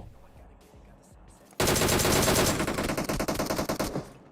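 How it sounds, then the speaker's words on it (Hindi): A DP-28 light machine gun fires in PUBG Mobile: after a quiet stretch, a loud, close burst of rapid shots starts abruptly and runs for over two seconds, with the rhythm turning choppier toward the end. "5-6 गोली चलाता हूँ उसके बाद रोक देता हूँ डीपी को।"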